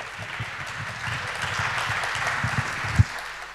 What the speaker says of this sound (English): a big round of applause before she begins